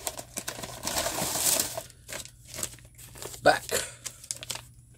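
An item sealed in a plastic bag, found among trash, is handled, making busy crinkling and crackling bursts that stop and start, with a voice audible in places.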